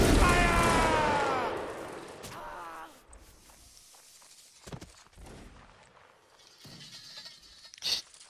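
Musket volley gunfire in the Mount and Blade video game: a loud, dense burst of many shots at the start that quickly decays, followed by a few scattered sharp cracks and thuds.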